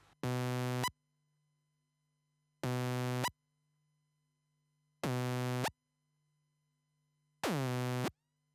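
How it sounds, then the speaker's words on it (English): A modular synth sequencer slide in exponential mode: four evenly spaced buzzy synth notes held at steady pitch, the last one opening with a quick curved pitch drop, over a faint low hum between notes. "This is what it looks and sounds like in exponential mode."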